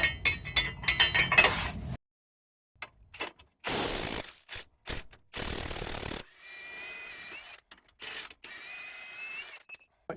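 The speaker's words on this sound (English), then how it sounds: "So here's my 24 millimeter box wrench. I'll start with the suspension strut." A 24 mm box wrench loosening a rear suspension strut bolt on a Ford Explorer or Mercury Mountaineer, with rapid ratcheting clicks and metal clinks in bursts separated by short silences, close and clear.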